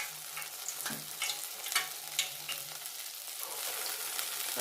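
Round balls of dahi vada batter dropped into hot oil over a medium flame, frying with a soft, continuous bubbling crackle and scattered small pops, fairly quiet and without speech.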